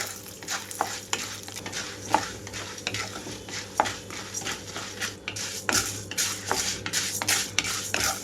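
Urad dal fries in hot oil while being stirred in a pan, a soft continuous sizzle broken by repeated scraping and clinking strokes of the spoon against the metal, close up with no talk.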